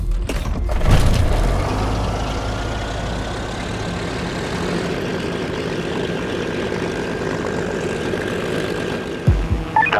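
A propeller light aircraft approaches a moving train for a touch-and-go landing in wild turbulence, its engine droning continuously with a steady tone, loud and close, with wind rumble at the start.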